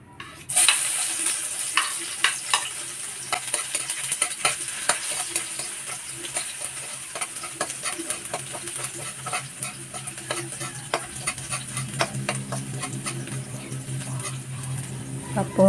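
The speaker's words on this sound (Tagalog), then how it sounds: "Ngayon, lagyan na natin yung bawang." Chopped garlic sizzles in a little oil in a frying pan, a steady close crackle with faint stirring scrapes throughout.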